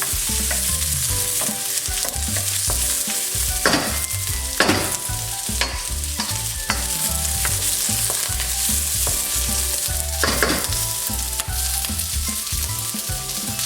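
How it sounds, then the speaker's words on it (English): Tofu stir-frying over high heat in a Chinese black bean dish, a steady loud sizzle with scraping and stirring clatter throughout, sharp utensil strikes against the pan popping out now and then. "Like any stir fry, these has to be on a high heat"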